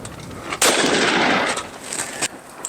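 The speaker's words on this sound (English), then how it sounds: "let's hit it with the 44, see what that does" .44 caliber pistol fired outdoors at homemade Kevlar armor: one sharp, loud shot close by, trailing into a rolling echo that lasts over a second, with a fainter sharp crack afterward.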